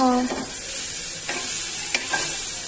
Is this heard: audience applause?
no